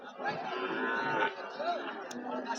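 A cow moos nearby in a drawn-out low call at a cattle market in Joypurhat, Bangladesh, with murmuring voices and market bustle in the background.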